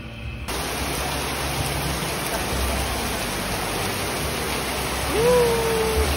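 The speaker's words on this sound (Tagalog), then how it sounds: "At bumuhos pa nga ang malakas na ulan." Heavy rain pours down steadily in a dense, unbroken hiss that holds at the same loudness throughout, with a faint tonal sound near the end and no talk.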